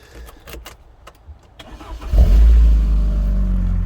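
Car engine cranking with a few clicks and clatters, then catching and settling into a loud, steady running rumble close by as the car gets ready to be moved in a cramped garage during an engine removal job.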